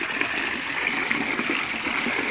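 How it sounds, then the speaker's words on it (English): Water from a spring pouring steadily outdoors as it is collected, a continuous broadband gush heard close, with no voices. "There's a spring here. I'm picking up water here."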